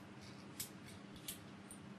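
Scissors snip through the underside of a cooked lobster's shell in two sharp, close cuts with a faint third, over a low steady background hum.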